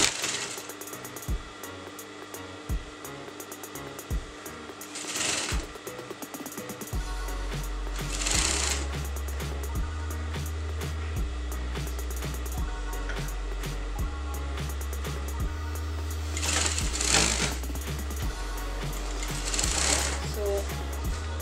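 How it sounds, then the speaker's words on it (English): A sewing machine stitches the folded armhole of a circle skirt dress in steady mechanical runs, loud and close, with a few short pauses and clicks between bursts. "I'm going to sew"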